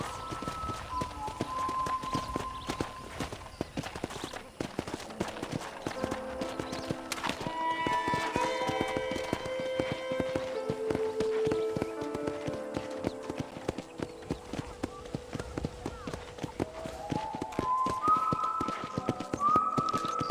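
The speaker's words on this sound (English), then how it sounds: "let's see if you can still ride a horse" Clip-clop of horse hooves during a ride in the video game Red Dead Redemption, a steady rhythmic trot that runs throughout under in-game music and tones, with a brief whinny.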